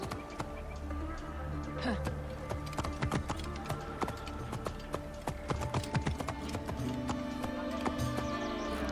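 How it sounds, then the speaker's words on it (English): Horse hooves clip-clopping as a rider travels through ancient Alexandria in the video game Assassin's Creed, a steady run of close footfalls over a busy ambient game background. "They're probably not going to like me riding my horse in there, but I got her with me"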